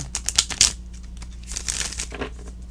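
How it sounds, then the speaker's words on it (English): A deck of tarot cards is shuffled by hand, giving quick flurries of crisp riffling and papery slaps in short bursts, close and fairly quiet with pauses between. "I'm going to shuffle 2 more times and turn a chunk each time."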